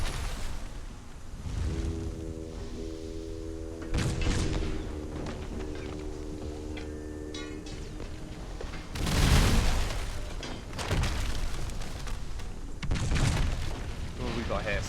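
Ship cannons firing in a naval battle video game, including an orc battleship: heavy booming volleys and bursts roll out at intervals, with a louder cluster near the end, under game music and a voice talking.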